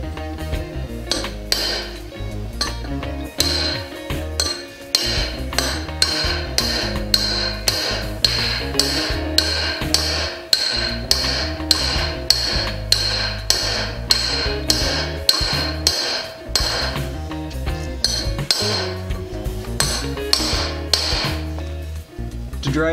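Steady, ringing metallic hammer blows on an old bearing race used to drive a new race into a semi truck wheel hub, struck repeatedly at a brisk, even rhythm, close and loud.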